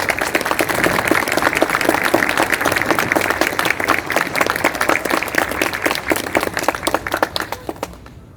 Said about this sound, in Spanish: Fuerte el aplauso para él, por favor.